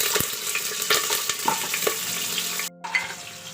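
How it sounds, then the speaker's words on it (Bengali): Potatoes fry in hot oil in a pressure cooker, giving a dense continuous sizzle with small crackles and a few spoon clicks, close and fairly loud, briefly cutting out before resuming. "আমি প্রথমে আলুগুলো একটু ভেজে নিচ্ছি।"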